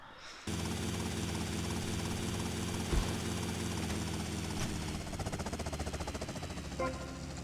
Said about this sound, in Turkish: sıradaki paket için helikoptere ihtiyacım olacak